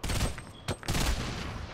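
Bursts of gunfire in the Fortnite battle royale game, several quick rattling volleys with a short gap between them, moderately loud and close, with no talking over them.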